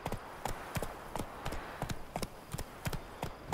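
A horse's hooves in The Witcher 3, a steady clip-clop of sharp hoof strikes in a brisk galloping rhythm, close and fairly quiet with no talking over it.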